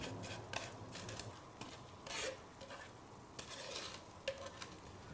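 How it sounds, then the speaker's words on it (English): A cook's knife scrapes garlic and salt into a paste on a board, giving faint, irregular back-and-forth rasping strokes with a few sharper scrapes, quiet and close with no talk. "Just take a little bit of salt into the garlic, and again use your cook's knife and just grind that to a paste."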